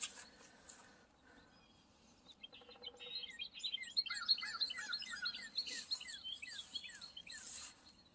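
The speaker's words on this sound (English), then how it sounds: "The birds are chirping." Small birds chirping in a garden in central North Carolina on a late-February winter day, rapid repeated high tweets building into a busy chorus, moderately faint with no talk.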